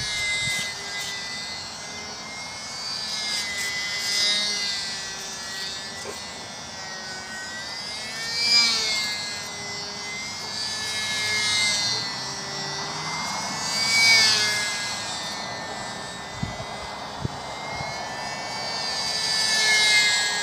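Sbach 342 model aerobatic plane flying in calm conditions, its high-pitched motor whine rising and falling as it passes, rolls and spins overhead, with the tone bending up and down throughout.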